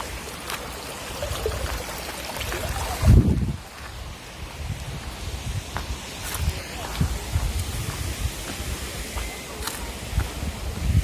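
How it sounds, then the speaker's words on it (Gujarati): Water flows along a channel at a dam in open countryside, a steady close rushing and trickling with wind buffeting the microphone and a loud rustle partway through, while someone talks. "અહીંયા પાણી જો હાલ્યું જાય છે."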